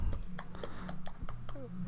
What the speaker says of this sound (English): Just typing away here.